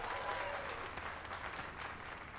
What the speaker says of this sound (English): Let us give a round of applause for young Fulvio, who breathed life into this block of stone